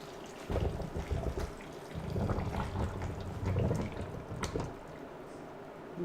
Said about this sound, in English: So now we'll just pour in our liquid.